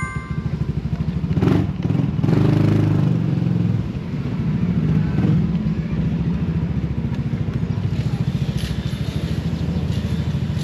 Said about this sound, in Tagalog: At naipalit na natin yung muffler natin kay Kambal